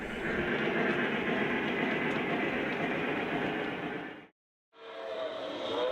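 An O gauge 3-rail model train rolls steadily across a layout with a continuous broad rumble and whir, fairly close and even, cutting out abruptly to silence near the end before resuming.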